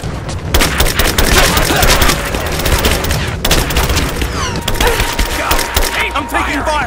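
Dense bursts of gunfire fill a firefight in the video game Rise of the Tomb Raider, with rapid volleys, heavy booms and scattered shots running loud and continuous, with occasional shouted voices mixed in.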